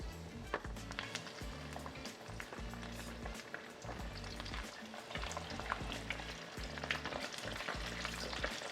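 Chicken wings frying in hot oil, a close, steady crackling sizzle with bubbling pops running continuously and fairly quietly throughout.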